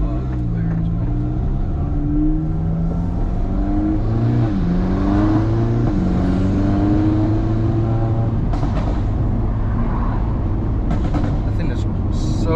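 A 2022 Audi S3 (8Y) with worn bearings and dust boots revs loudly up close, its engine tone climbing and falling in repeated sweeps while people talk over it.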